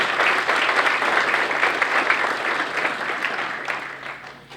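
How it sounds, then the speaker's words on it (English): Loud, steady applause from an audience at a chamber of commerce dinner, continuous clapping that slowly fades toward the end. "Let's give these folks a round of applause."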